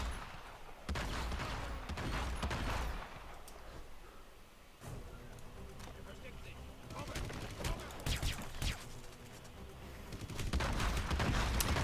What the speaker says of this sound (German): Wer schießt denn da von der Seite